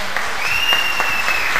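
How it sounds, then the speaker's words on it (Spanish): Audience applause at an anniversary show, steady dense clapping for a singer, with a faint whistle-like tone riding over it and no talk. "mi hermano Carlos Toro, pido un fuerte aplauso para él."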